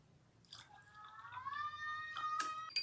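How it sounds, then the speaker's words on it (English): Water poured into a glass, one of two glasses used for a homemade floating candle. A thin rising gurgle of liquid builds steadily over a couple of seconds, close and fairly quiet, with no talk over it. "First, pour some water into the glass."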